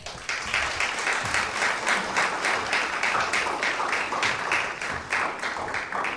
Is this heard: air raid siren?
no